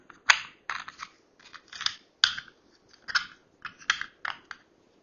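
Sharp plastic clicks from the parts of a portable knife sharpener being assembled and checked, a series of crisp close snaps spaced irregularly with short bursts of rattle between them.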